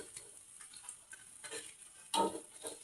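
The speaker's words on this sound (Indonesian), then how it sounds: "goreng cemilan ini" Bakwan fritters frying in hot oil, a soft crackling sizzle with light scraping stirs and one sharp louder burst near the end, close and fairly quiet with no talking.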